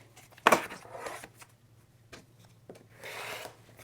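Quilt fabric is being cut to a five-inch square, giving a sharp close snip or scrape followed by softer rubbing and a second rasping pass, quiet and unaccompanied by speech.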